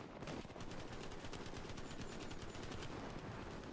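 Dense, continuous rapid-fire gunfire during an Overwatch match rattles on steadily at a fairly even loudness, with the rapid shots blurring into one rattle.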